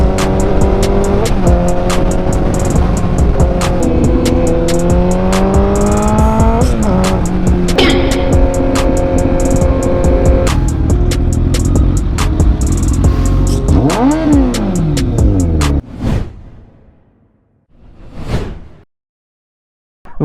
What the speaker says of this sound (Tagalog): So habang nagpapainit ako ng motor